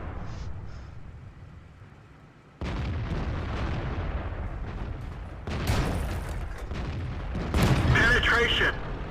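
Tank guns in World of Tanks fire in heavy booming blasts, one sudden crack after a quiet start and further strikes later, with a rumbling battle noise between them and a voice talking over it.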